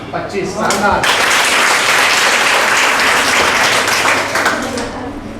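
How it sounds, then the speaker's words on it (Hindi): Loud, sustained applause from the audience at a college award ceremony in a women's college hall, dense clapping that swells after a second and holds steady before tapering slightly at the end. "आप लोग एक बार जोरदार तालियों से सबका स्वागत अभिनंदन करें और उत्साहवर्धन करें"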